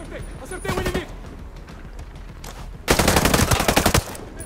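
Automatic weapon fire in Ghost Recon Breakpoint on Xbox One: a short, loud burst of rapid shots, a pause, then a longer sustained volley, all close and dense.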